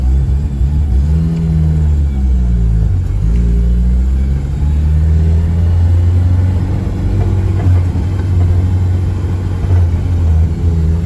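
A Honda Civic with a K20Z1 engine out on a test drive, its steady low engine drone and road rumble filling the cabin, rising slightly as it accelerates, loud and continuous with no speech.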